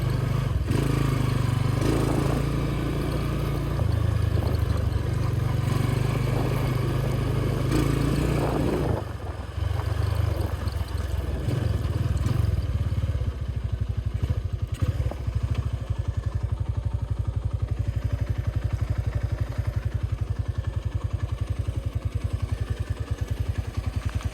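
Honda Tiger motorcycle ridden on a road, a loud continuous engine drone with throttle changes and wind noise, close to the microphone and steady throughout.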